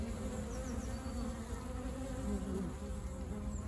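Honey bees in spring crowd a busy hive entrance where pollen is coming in, giving a dense, continuous buzzing drone close by with no talking.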